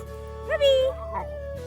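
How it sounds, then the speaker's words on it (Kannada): A single short whimpering whine from a dog, rising and falling over about half a second against a faint steady hum. "ನಾಯಿ"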